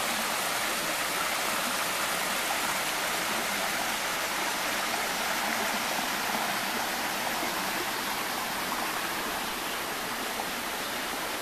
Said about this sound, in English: And here's what the Thornton River looks like here.